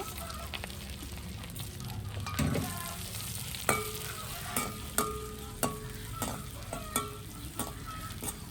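Fennel seeds, curry leaves and dried red chillies fry in a pan for a chilli chicken curry, giving a steady sizzle punctuated by regular scraping clicks of a spoon stirring against the pan.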